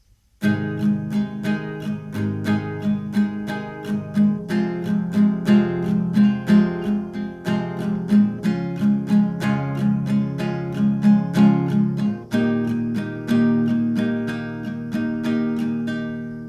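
Acoustic guitar strummed in a steady repeating pattern, two strums per chord, through the pre-chorus of a song, bright and close with a clear rhythmic pulse and a chord change around twelve seconds, no voices.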